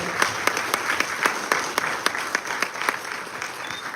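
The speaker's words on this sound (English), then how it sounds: "Can you please have a round of applause for her?" Audience applause greeting the chief guest, a Supreme Court of India judge, at a book launch on women's laws, steady clapping from a sizable crowd with sharper individual claps standing out throughout.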